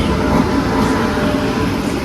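Train at Majestic station in Bengaluru, a steady loud rumble of rail traffic filling the station with continuous low roar and no voices.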